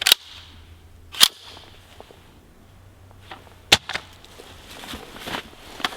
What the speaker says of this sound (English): Drop test, shoulder height.